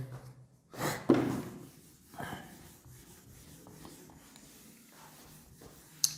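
Marker or chalk writing on a board during a Hindi-language chemistry class, a few short scratchy strokes and rubs separated by quiet pauses, fairly close and soft.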